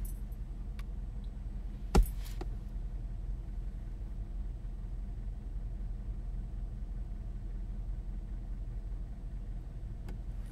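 Inside a moving car, a low steady rumble of engine and road fills the cabin, with one sharp click near the start and no one speaking.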